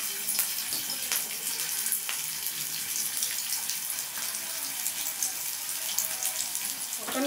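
Round chicken tikka resha kababs, four or five at a time, fry in hot oil with a steady, bright bubbling hiss that carries evenly through the whole stretch without talk.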